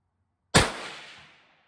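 A single sharp pistol shot at a target range goes off after brief silence, loud and close, with a quickly fading reverberant tail.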